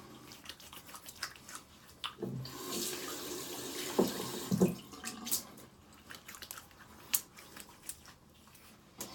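Cold tap water runs steadily into a sink during face washing after a shave, with splashing and hand-cupping noises rising in the middle of the stretch, close and fairly quiet, no voices.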